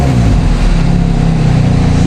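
An Emzoom R Style exhaust with a working muffler, its engine droning loud and steady at close range in a short burst, with no talk.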